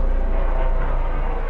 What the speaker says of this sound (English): So helicopter going over. Oh, it's the police helicopter.